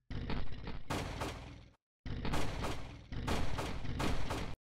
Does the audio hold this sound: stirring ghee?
no